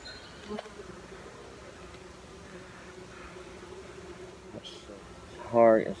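Honeybees hum in a low, steady drone from an opened hive during a split, faint and constant, with one louder buzz passing close near the end and a voice talking.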